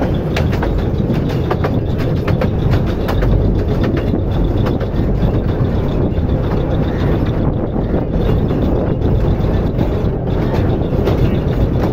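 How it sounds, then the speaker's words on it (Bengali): A small toy train carries riders away from the Elephanta Caves, wheels rattling and clicking in a steady continuous rumble close up, with faint rhythmic clacks running through it and no talk. "আমরা আবার উঠেছি টয় ট্রেনে"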